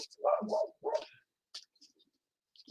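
A small dog barks at the neighbours' dogs, two quick close barks at the start followed by fainter yips and scattered sounds against near silence.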